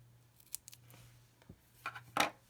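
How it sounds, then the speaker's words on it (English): Scissors snipping through a paper craft piece, cutting it into thirds: a few short, crisp snips spread across a quiet moment, near and fairly soft, with a louder cut toward the end and no talking. "I'm going to cut this into thirds."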